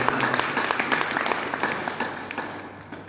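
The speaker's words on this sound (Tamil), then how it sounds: "இந்த சகோதரிகளுக்கெல்லாம் ஒரு கைத்தட்டு கொடுங்க" A crowd claps steadily, a dense patter of many hands that slowly fades toward the end, with faint voices underneath.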